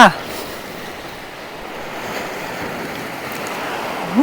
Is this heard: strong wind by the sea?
yes